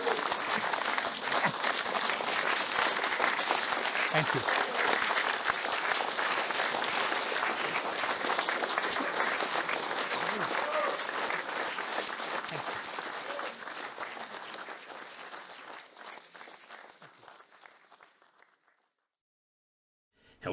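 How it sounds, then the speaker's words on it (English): Sustained audience applause at a history lecture fills the hall at a steady, loud level, then gradually thins and fades to silence near the end, with a brief spoken thanks. "perhaps we can give him a huge round of applause for standing up"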